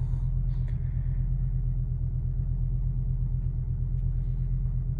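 A 1986 Audi 4000CS Quattro idles just after a cold start, a steady low rumble with an even, continuous tone, close and fairly loud, with a faint light click early on.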